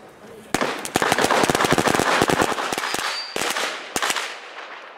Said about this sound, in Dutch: Dat is ook vuurwerk, vuurwerk.